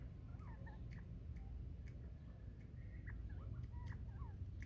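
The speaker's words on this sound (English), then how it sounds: "Hear the boys crowing up front." Several roosters call in short bursts, scattered crowing and clucking over a steady low rumble of background noise, fairly faint and distant.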